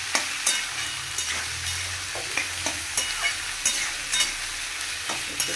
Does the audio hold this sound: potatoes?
yes